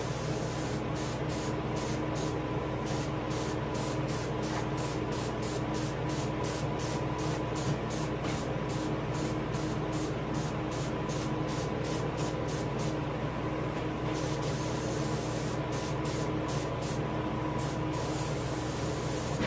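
Steady, unbroken spray-gun hiss of bright yellow paint being applied to a largemouth bass taxidermy mount, close and loud for the whole stretch with no pauses.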